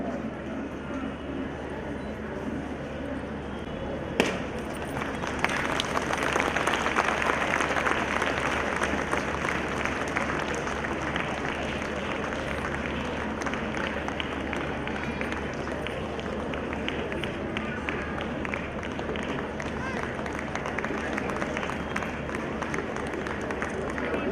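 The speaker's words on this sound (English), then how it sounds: "Can I have a huge round of applause, please?" Loud, sustained applause from a large audience at a school annual day in Butchirajupalem, Visakhapatnam, after a short clattering bang, then a dense roar of clapping that keeps going without a break.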